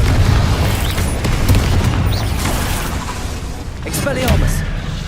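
Confringo spell blasts in the video game Hogwarts Legacy make loud, deep booms with rumbling low end, one after another, mixed with voices and other combat effects.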